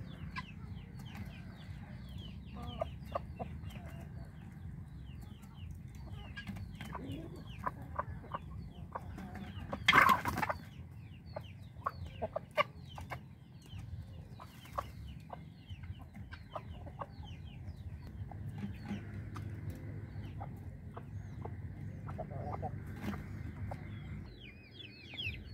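Guinea fowl and chickens clucking and calling in a farmyard, a steady scatter of short clucks over low background noise, with a sharper, louder outburst near the middle and no talking.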